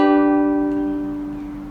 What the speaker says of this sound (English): So the chord will sound like this.